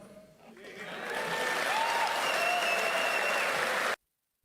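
Enthusiastic applause from a supportive crowd at a political speech, building over the first second into sustained, dense clapping with some cheering, then cutting off abruptly.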